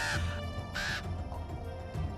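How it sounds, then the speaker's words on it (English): A group of black ravens squawk and caw noisily to one another from indoors, two loud bursts of harsh calls standing out over a steady background. "There was a group of birds squawking and calling to each other noisily."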